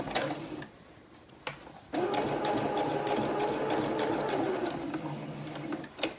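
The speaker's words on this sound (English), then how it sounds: "So we just do a couple and reverse, and then we sew all the way down." A sewing machine stitches fabric in short bursts, a few quick stitches before a longer steady whirring run, close and fairly quiet, with brief clicks between.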